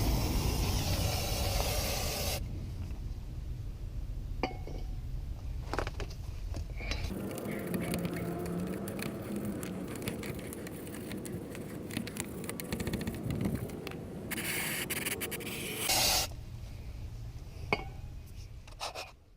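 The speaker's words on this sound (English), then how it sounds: "I also gotta scrub it with a steel bristled brush." A steel bristled brush scrubs the wheel hub of a 2015 Subaru WRX, producing steady raspy scratching strokes, close and fairly quiet, with brief pauses between bursts.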